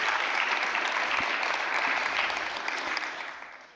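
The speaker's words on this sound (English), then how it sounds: "Again, a warm applause to our speakers and moderators." Conference audience applauding speakers and moderators at a journalism and human rights event, a full, continuous burst of many hands clapping that stays steady and fades slightly at the close.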